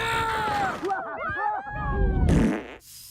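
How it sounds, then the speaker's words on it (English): Cartoon fart sound effect, a long wobbling, bending blast followed by a short burst of noisy crackle, loud and alone without talk. "They wrapped the earth in a blanket and farted so hard it covered the entire world."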